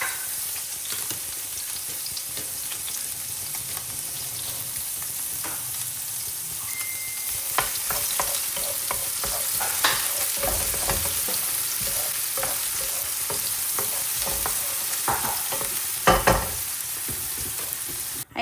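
Onions frying in a little oil for pancit bihon, with a steady close hiss of sizzling and scattered scrapes and clinks of stirring throughout.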